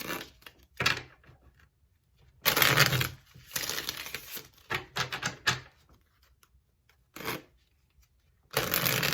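Tarot cards shuffled in several quick rustling bursts separated by short pauses, close and fairly quiet, with no talking.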